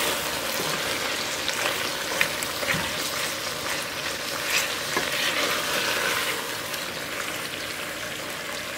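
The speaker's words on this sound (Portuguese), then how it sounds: "E vamos esperar ela fritar um pouquinho aqui junto com a carne." Sliced onion fries alongside pork ribs in a pan, giving a dense, even sizzle that holds steady throughout. A few faint spoon taps break it up, and nobody speaks.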